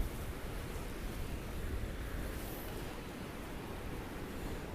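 Waves wash on a beach in a steady, broad roar of surf mixed with wind buffeting the microphone, continuous and fairly faint with no distinct breaks.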